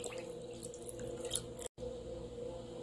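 Water running into a pot for boiling pork ribs, a steady splashing and trickling stream with faint drips, briefly cut off near the end before continuing, moderately close and soft.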